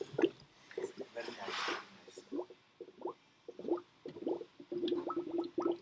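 Fluids gurgle and glug in irregular bursts as they are poured into a BMW 335i, the bubbling close and fairly quiet.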